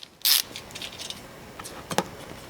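A ratchet with a 7mm socket working a small fastener on a car's underbody flap near the oil filter: a short burst of quick mechanical clicks, then scattered light ratcheting ticks and clatter, close and moderately loud.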